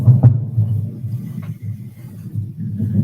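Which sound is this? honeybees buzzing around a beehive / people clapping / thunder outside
thunder outside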